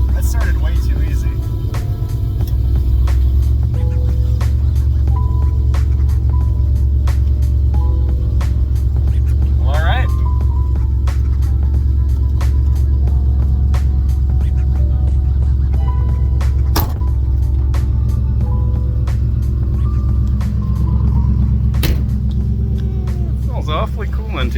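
The engine of an old Shoebox Ford car idles with a loud, steady low rumble throughout, with scattered clicks and knocks over it and someone talking at moments.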